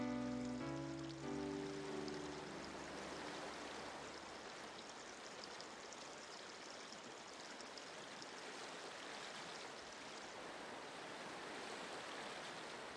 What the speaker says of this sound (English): The slope is gentle here and the water flows slowly